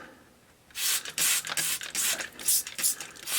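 Quick bursts from a spray bottle of 99% isopropyl alcohol hit a pH meter bulb, a run of about eight sharp hissing spritzes in uneven rhythm, close and clear with no talking.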